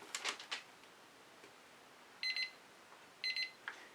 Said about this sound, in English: There I go, using up my 17-minute timer.